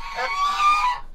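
Geese on a farm in Turkey honk in a short, loud burst of about a second, with nasal calls layered together close by before cutting off into quiet.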